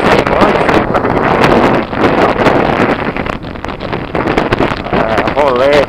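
Strong wind buffets the microphone along the Salvador waterfront during a ride on a 1992 Honda NX 350 Sahara motorcycle, a loud, ragged rush that continues under someone talking.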